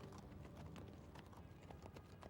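Horses clip-clopping while pulling guns, a steady stream of overlapping hoofbeats with no voices.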